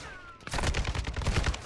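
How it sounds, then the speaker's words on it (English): Rapid gunfire crackles through a heated gunfight in the video game Modern Warfare 2, a dense burst of repeated shots starting abruptly after a brief quiet lead-in and continuing loud to the end. "I'm in a horrible gunfight with this guy right now,"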